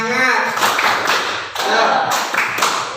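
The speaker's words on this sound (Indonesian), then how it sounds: "Tepuk semangat." A group of schoolchildren in class does a rhythmic spirit clap, loud patterned bursts of clapping broken by short pauses, with voices calling out between the claps.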